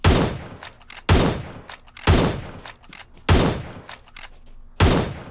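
Five sharp, loud Winchester 94 rifle shots in PUBG Mobile, spaced about a second apart with gaps for lever cycling, each a hard crack with a short decaying tail.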